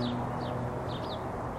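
Birds chirp in an evening spring garden, several short high calls rising over a steady low background hum, distant and fairly faint, with no talking.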